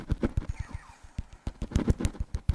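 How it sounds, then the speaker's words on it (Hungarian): Rapid bursts of gunfire and blasts in the game Traffic Panic London pop in quick succession, sharp and punchy, with a brief lull before the volley resumes. "Jött egy kis robbangatás."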